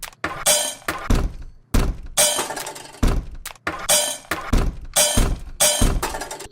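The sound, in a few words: long foley hit sample used as a fill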